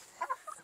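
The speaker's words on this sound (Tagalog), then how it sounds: "Ito po yung mga, ano natin, mga Rhode Island Reds na babae." Rhode Island Red hens clucking: a few short, soft clucks close by in quick succession, fairly quiet, with no talk.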